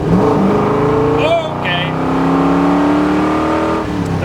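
A 1967 Corvette Tri-Power 427 accelerates hard in second gear, its engine note climbing steadily and loudly from inside the car, while occupants speak briefly over it.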